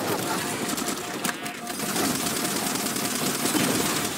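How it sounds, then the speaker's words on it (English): Gunfire rattles through a Halo 4 co-op firefight, a dense, continuous stream of shots with a couple of louder cracks, with speech mixed in. "You're getting shot in the side of the head by a sniper."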